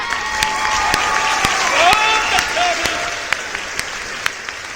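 Audience applause at a Hindi hasya kavi sammelan comedy poetry show, a steady wash of many hands clapping with a few sharper claps standing out, loud and close throughout, with faint crowd voices mixed in.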